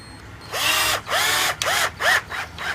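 A power drill driving screws into wood whirs in four or five short, loud bursts, each rising and falling in pitch, with brief pauses between.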